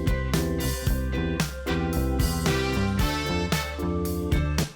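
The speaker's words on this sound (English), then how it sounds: "you can hear there is brass in there just doing these little stamps throughout the chorus" Short, punchy MIDI brass stabs hit in a bouncy rhythm over a full pop band backing, with the sound blooming slightly into a roomy reverb.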